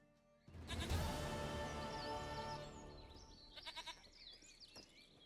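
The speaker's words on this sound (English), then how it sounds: "Goat of mine, dearest, sweetest goat." A goat in The Witcher 3 lets out a loud, wavering bleat, followed by a few shorter, quieter bleats and bright chiming game sounds.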